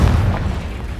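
A Confringo spell explodes in Hogwarts Legacy, a deep booming blast that rumbles and decays over a second.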